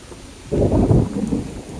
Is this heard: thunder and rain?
yes